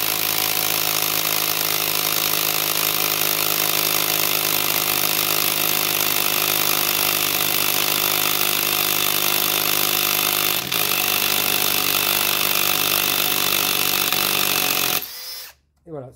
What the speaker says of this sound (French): on a fait son petit chevillage en 8 avec la visseuse, la GSR12V-35